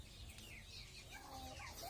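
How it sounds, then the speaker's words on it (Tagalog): Chickens clucking and murmuring softly at a distance over a steady background hiss, with a few overlapping calls toward the end. "Alis na mga manok na to."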